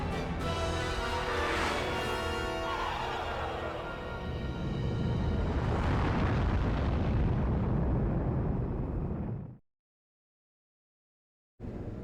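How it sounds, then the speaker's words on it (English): CGI explosions in a Xenosaga PS2 video game cutscene roar in loud, rolling blasts for about nine seconds, then cut abruptly to silence before a brief burst returns at the end. "Like the random use of CGI explosions is so funny"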